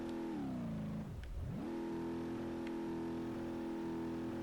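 A car without tires being driven on sand: a steady, humming engine tone drops sharply and climbs back up once, then holds level, loud and continuous.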